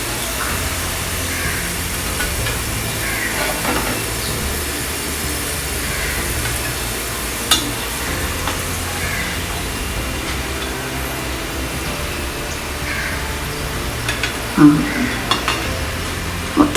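Bitter gourd pieces fry in oil and are stirred in a pan, a steady sizzle running throughout with occasional scraping and clinks of a utensil against the pan.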